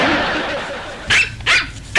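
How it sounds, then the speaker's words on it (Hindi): A dog's bark plays from a television, three sharp barks at the end, spaced evenly and fairly close, after a stretch of steady room noise. "ये कुत्ते की भौंकने की आवाज कहाँ से आ रही?"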